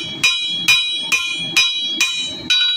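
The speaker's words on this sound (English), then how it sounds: "Remember my hammer hand always hammers the way it always hammers." Six sharp, ringing hammer blows on a copper arrowhead being forged, struck at an even rhythm about half a second apart, close and loud with no talking.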